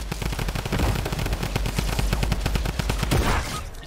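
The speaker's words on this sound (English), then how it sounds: "I just got spammed with 3 Tommy guns." A Tommy gun in Fortnite fires in one long, loud, close burst of rapid, evenly spaced automatic shots, with no voices.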